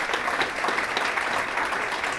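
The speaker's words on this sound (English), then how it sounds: "Please give a round of applause" Applause from a conference audience at a metaverse event, continuous clapping from a modest crowd at steady moderate volume throughout.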